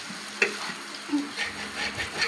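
Dried fish frying in a frying pan in a home kitchen, a soft, close sizzle with intermittent scrapes and light knocks of a utensil stirring.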